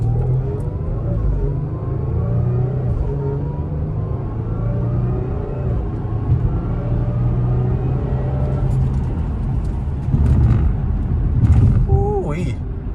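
A car engine rumbles steadily and rises in pitch as it accelerates, with people talking over the noise throughout.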